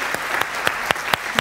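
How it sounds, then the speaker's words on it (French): Audience applause at a student campus radio show: a short burst of rhythmic clapping, fairly close and even, with faint voices underneath. "Sous les applaudissements du public pour vous chauffer."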